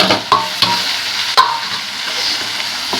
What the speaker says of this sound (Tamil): நல்லா வதக்கிடுவோம்.